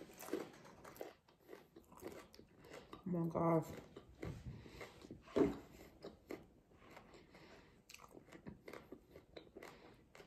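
A few loud crunchy bites into a homemade crispy taco shell, with chewing between them, close to the mic, and a person briefly speaks amid the munching.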